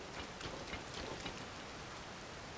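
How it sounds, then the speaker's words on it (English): Steady rain falls in the Zelda: Tears of the Kingdom game world, a soft, even hiss of drops with no speech. "Why is there nothing but rain in the future?"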